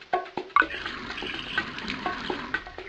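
Water pouring into a pony's watering trough in a Dora the Explorer game, a short splashing, gurgling fill with a couple of sharp drips at the start, close and fairly loud, no voices.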